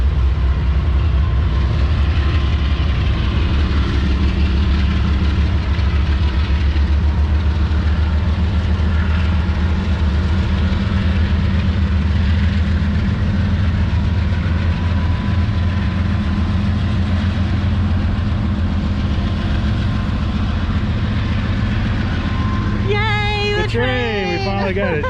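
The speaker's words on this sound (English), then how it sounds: "Hey, the train's coming through." A train rolls past near the Mississippi Welcome Center on the Louisiana border, a loud continuous rumble and rail clatter throughout, with a brief squeal or horn-like tone near the end.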